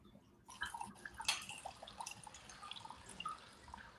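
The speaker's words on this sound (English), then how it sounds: "Just go ahead and pour it." A cocktail poured over ice in a highball glass, with soft liquid trickles and small clinks running for several seconds at close range, with no talk.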